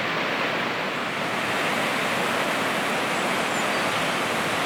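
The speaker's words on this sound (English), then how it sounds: "The wind blowing the big fall across." Waterfall at Twin Falls Lookout on the NSW South Coast, a big fall with an 81-metre drop blown by wind, heard as a steady broad rushing hiss from a distance, with no voices.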